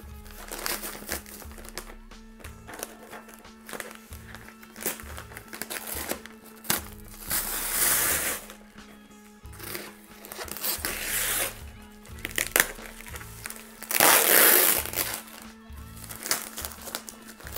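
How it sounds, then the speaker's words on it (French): Bubble wrap is peeled and unwrapped from the packaging of a Tokyo Marui HK45 Tactical airsoft pistol, giving close, irregular bursts of crinkling and rustling plastic with louder crackling surges. "On a une bonne couche de papier bulle."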